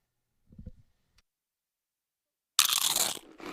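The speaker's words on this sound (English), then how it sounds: "It's the crisp crunch of that first nacho chip." A single loud, crisp crunch of a first bite into a nacho chip sounds alone and close up, after a brief quiet thud and a tiny click.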